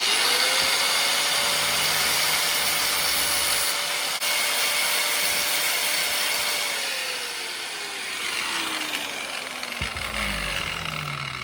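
Angle grinder with a cut-off wheel grinding down a weld on a dumbbell, a loud continuous whine that holds steady, sags around the middle and swells again near the end, with no talk over it.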